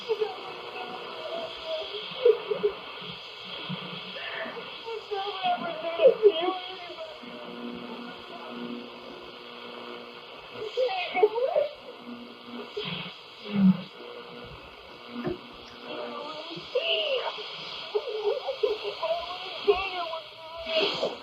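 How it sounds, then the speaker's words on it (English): A radio recording with a wavering signal and static hiss, a voice and tones fading in and out beneath the noise throughout, faint and warbling. "The signal continued wavering in and out throughout the recording, with her voice rising and disappearing beneath the noise."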